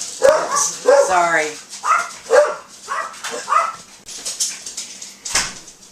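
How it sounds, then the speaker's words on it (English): Several dogs barking and yipping indoors in a series of sharp, close bursts, with a whimpering note among them and a brief spoken word. "My daughter just got home and the dogs were just letting me know."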